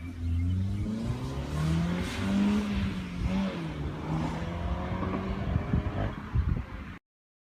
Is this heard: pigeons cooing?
no